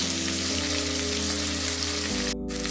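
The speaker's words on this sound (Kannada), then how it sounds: "ಸ್ವಲ್ಪ ಎಲ್ಲ ಹಸಿ ವಾಸನೆ ಹೋಗೋ ತನಕ ಫ್ರೈ ಮಾಡ್ಕೊಳ್ಳೋಣ." Soybean pulao ingredients frying in a pan, a steady, continuous sizzle that stays even throughout, with a low hum underneath and no talking.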